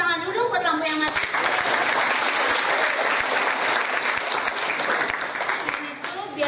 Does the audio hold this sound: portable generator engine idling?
no